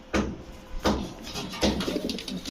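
Giribaz pigeons coo close by in three soft, throaty bursts, each a low rolling call, with a brief pause between them.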